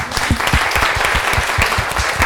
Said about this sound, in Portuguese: o que vocês acham de dar uma salva de palmas para essa moça linda?